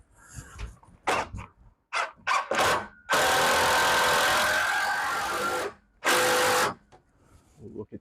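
A power drill drives screws into wood in a basement, with short bursts and then one sustained whir of about two and a half seconds, close and loud, mixed with handling clatter.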